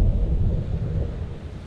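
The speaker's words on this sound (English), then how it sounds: "Stormy outside, lightning, thunder, the whole nine yards." Stormy weather in the horror video game Man of Medan: a steady low rumble of thunder and wind fills the whole stretch, dense and fairly loud, with no voices over it.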